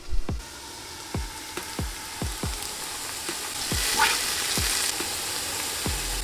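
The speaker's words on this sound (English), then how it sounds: "So you want to cook the onions until they get brown." Onions browning in oil in a pan sizzle with a steady hiss that swells toward the end, broken by a series of regular low thumps and taps from stirring every half second or so, close and without any voices.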